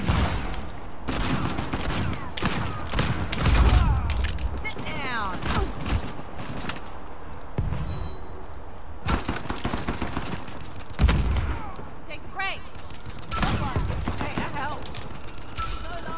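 Rapid-fire gunshots from an Uncharted 4 King of the Hill public online match, bursts of quick repeated shots scattered across the stretch, loud and close, mixed with other game noise and a voice talking.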